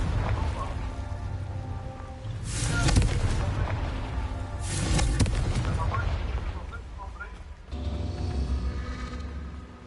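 The Confringo blasting spell in a PS5 game: two loud booming blasts a couple of seconds apart, each rising out of a steady rumble of background ambience and fading back into it.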